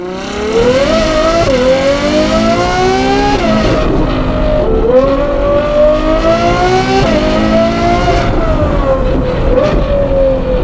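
A Ferrari 812 GTS V12 with a Novitec sport exhaust revs repeatedly, its exhaust note rising and falling through several gear changes, continuous and close with no talking.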